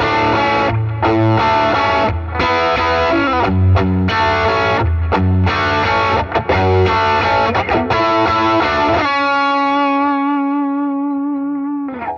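Electric guitar through the third amp preset on an HX Stomp, playing rhythmic distorted chord stabs with short gaps, then ringing out into a sustained chord that fades at the end, loud with no voices.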